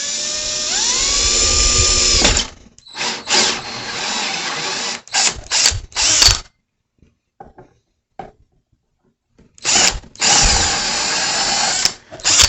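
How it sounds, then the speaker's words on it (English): A power drill bores a hole through a homemade heated fermenter and mash tun, whining in several loud bursts of varying length separated by short pauses and faint clicks. "it takes the same drill bit that we used on the grain fermenter parts kit"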